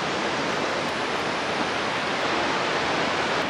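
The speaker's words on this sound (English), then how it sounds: "this waterfall is 114 feet tall and 201 feet wide" A large waterfall about 114 feet tall and 201 feet wide throws up a mist plume, heard as a loud, unbroken roar of rushing water that fills the whole moment with no voices.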